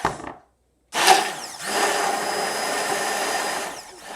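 Electric hand mixer whipping 400 millilitres of cream in a jug, a loud close whirring drone that starts after a short pause and runs steadily, its tone shifting slightly as the beaters move.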